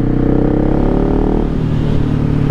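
Loud, steady Husqvarna 701 motorcycle engine rumble through a REMUS aftermarket exhaust with a deep throaty note, revving slightly and holding at a high idle throughout, close to the microphone.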